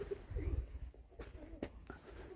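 Domestic pigeons coo softly in low, throaty murmurs, with a few brief sharper sounds in quiet surroundings.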